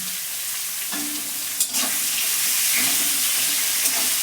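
Spice mix with tomato and salt fries in a pan for stuffed eggplant, a dense steady sizzle that swells briefly after a sharp clink, with light stirring underneath.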